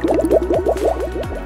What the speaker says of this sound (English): put them in a bowl of water and see which ones sink and which ones float